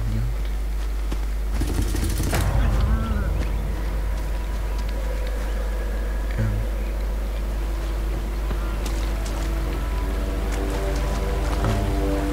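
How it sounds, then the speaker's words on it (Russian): Steady rain in the video game Far Cry Primal, a constant hiss of falling drops throughout with a low background rumble and occasional faint footsteps or movement. "А дождь идет."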